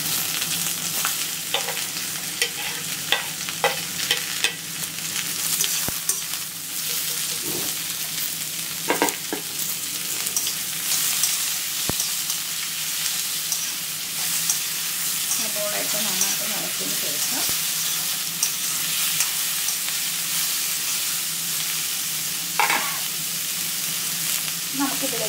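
Finely sliced onions, two of them, frying in a pan for a crab masala, a loud continuous sizzle with scattered clicks and stirring scrapes, close up, with no talking.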